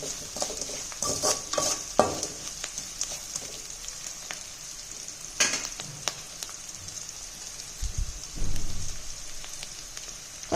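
Chopped bottle gourd sautéing in a pan, with a steady sizzle and occasional scraping stirs and clanks of the spoon against the pan, close and moderately loud with no talking.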